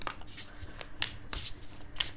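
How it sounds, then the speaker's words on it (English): Tarot cards being shuffled by hand, a quick run of soft papery riffles and flicks with sharper snaps near the middle and end, close and fairly quiet with no talking. "Shuffle with a little more intention here."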